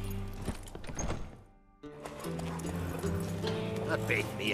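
Horse hooves clip-clop at a quick pace over game music and effects in The Witcher 3: Wild Hunt, with a short dip into near silence partway through.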